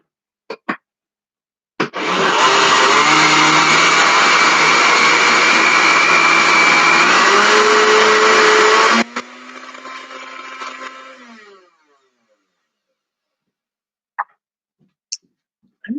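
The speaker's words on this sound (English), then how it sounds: "I'm not sure my blender's going to chop it up." A kitchen blender runs for about seven seconds chopping dried beef dip from a 1969 Betty Crocker recipe, loud and steady, then drops to a lower whir as it winds down, with a few light clicks before and after.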